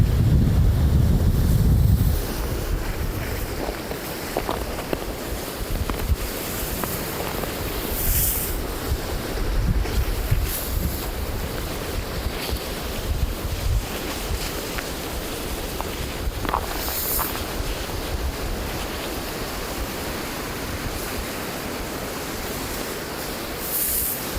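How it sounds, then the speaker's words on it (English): Great Lakes waves surge and splash up through a shoreline ice volcano, a continuous roar of surf and sloshing water mixed with heavy wind buffeting, with occasional louder bursts and no voices. "That wave rockets up, splashes up, and all that sloshing water creates another layer of ice that's going to build that ice volcano higher and higher."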